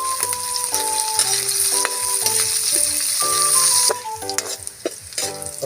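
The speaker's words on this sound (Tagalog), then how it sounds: "Ibubuhos na natin yung ating sibuyas. Isabay na natin yung ating sili sa ating sibuyas." Onion and chili hit hot oil with garlic and ginger in a frying pan for a native chicken dish, sizzling loudly and continuously up close with occasional stirring clatter and music playing underneath.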